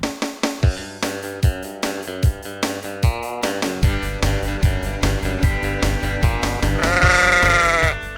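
Sheep bleat on a working sheep station in western South Australia, a loud repeated chorus of close and overlapping calls under a steady musical backing.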